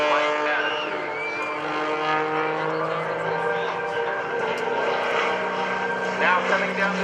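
An aerobatic propeller airplane flown by Sean Tucker drones low past the crowd at the 2011 Rhode Island ANG open house airshow, a steady engine hum shifting in pitch as it passes, under an announcer talking over the PA.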